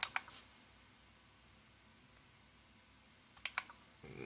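Mouse clicks on an Asus EEE PC 900 netbook: a couple of faint, sharp clicks at the start, then a quiet stretch of low hum and another small cluster of clicks, with no speech.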